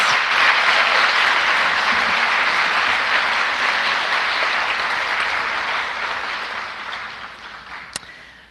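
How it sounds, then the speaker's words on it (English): Sustained applause from a sizable audience, dense and even, gradually fading toward the end. "Let's give a round of applause to our prose finalists."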